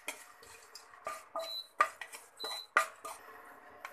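Raisins are roasted in a pan with a spoon clinking and scraping against the metal in a series of distinct, irregular knocks, close by and clear against a quiet background.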